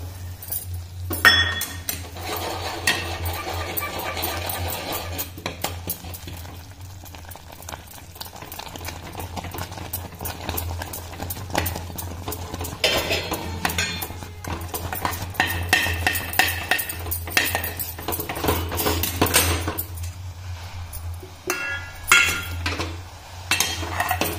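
Rice flour khichu is stirred vigorously in a pot of boiling water, a busy stretch of repeated scraping and clinking of a utensil against the pot over a low steady hum, no talk.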